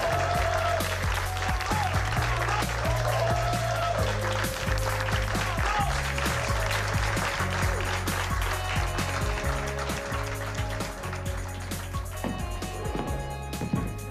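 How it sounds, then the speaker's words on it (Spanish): An audience applauds in a television show scene, a continuous wash of clapping layered over music with a steady beat and tonal lines that run the whole time. "Unos aplausos, por favor."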